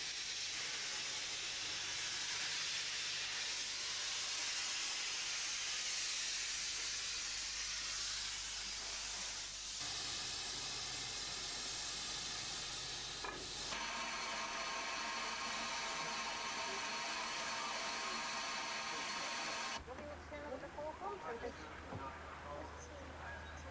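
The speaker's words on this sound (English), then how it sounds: "Having reached working pressure, the Manor comes off shed to make up her train." Steam hissing from a Manor-class steam locomotive leaving the shed at working pressure on the West Somerset Railway, heard as a loud, steady, broad hiss that shifts in texture partway through, with train and rail noise beneath and a voice over it.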